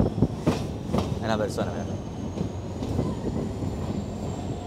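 A train running through a busy Argentine railway station, a steady rumbling rail roar with faint wheel clatter and a thin high squeal throughout, close by, while someone talks over it.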